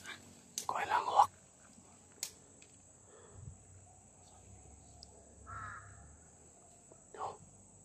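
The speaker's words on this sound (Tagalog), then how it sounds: "Tawag lang uwak tol." A crow caws in a short cluster of harsh calls near the start, then gives fainter caws further off. The setting is quiet and outdoors, with soft whispering, a faint insect hum and scattered small noises between the calls.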